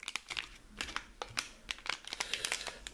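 Crinkly handling of an aluminum anti-static package holding a Hitachi HGST Deskstar 7K4000 4TB hard drive, with dense crackling and rustling bursts throughout, close and fairly loud, with no talk.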